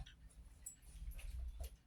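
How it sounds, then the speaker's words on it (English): Soft, faint whimpering from a puppy, a few brief high whines over low background rumble, with no talking. "Puppy, come on. Come over here. You're making a bunch of noise."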